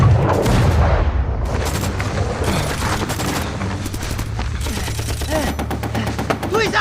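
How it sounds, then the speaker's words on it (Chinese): Rapid gunfire from a snowy-battlefield action film: dense bursts of machine-gun fire and single shots crackle loudly throughout, mixed with booms and a low rumbling score, with occasional shouted voices. "开枪！ 开枪！"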